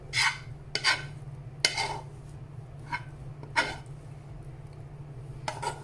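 A spoon stirring a cooled tuna and cheese mixture for crepe roll filling in a bowl, with soft rhythmic scraping strokes repeating every second or so over a steady low hum, close and moderately loud.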